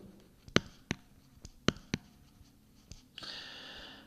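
A pen taps and scratches on a board while a butyl radical structure is drawn: a series of sharp, irregular clicks and strokes, then a longer scraping stroke at the end. The sounds are close and quiet, with no talking.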